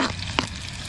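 Cabbage and rice fry on a camp cooker outdoors, with a steady close sizzle and a brief sharp pop or tap near the start.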